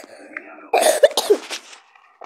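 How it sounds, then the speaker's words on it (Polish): A single harsh cough burst with some throat clearing, close and loud, preceded by faint background murmur and then quiet. "To jest taki kaszel przywi."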